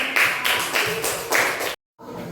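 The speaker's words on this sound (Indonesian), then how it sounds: "Kasih tepuk tangan untuk Dita." A classroom of pupils claps together in a short, rhythmic burst of applause for a classmate, fairly loud and close, then the sound cuts off abruptly to near silence.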